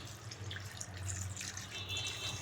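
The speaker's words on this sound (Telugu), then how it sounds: "ఈ విధంగా వాటర్ ఒక వన్ గ్లాస్ వాటర్ యాడ్ చేసుకున్నాం" Water from a glass poured into a pan of broad bean and potato curry, a steady, soft liquid splash and trickle lasting throughout at moderate volume, with no talk.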